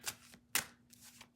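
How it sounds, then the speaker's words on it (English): Playing cards being shuffled close up, a few quick riffling bursts separated by short pauses, soft and crisp. "Just shuffle your deck first."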